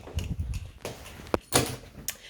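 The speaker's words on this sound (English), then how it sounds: "So I'm just going to close the door." A door being closed during a move-in inspection of a house, heard as a couple of short, moderately loud thuds and knocks near the end, with quieter handling noises before.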